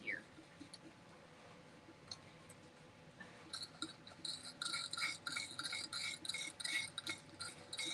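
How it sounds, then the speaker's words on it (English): A nut is unscrewed on an old lamp, first quiet, then building into a run of close, rapid scraping and rasping metal turns with small clicks, and a voice is briefly heard in the background. "I'm unscrewing the nut down here so I can just take the whole thing out"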